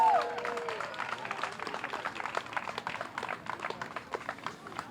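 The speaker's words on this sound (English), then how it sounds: "Let's give a round of applause." A crowd claps at the reopening of the newly renovated Jeep Jones Park in Roxbury, outdoors; scattered, moderately loud clapping follows a brief whistle-like tone at the start and thins into uneven, spaced claps.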